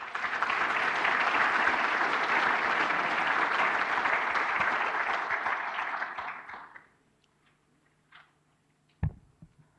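An audience applauds in welcome for speaker Linda Jakobson at a talk on China's foreign policy, dense steady clapping from a large crowd that fades out after about six seconds, followed by a few soft knocks and near silence.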